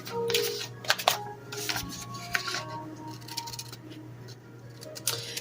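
Scissors cut out a paper craft piece in short, close crisp snips and rustles of paper, with a few light clinks and a low background hum.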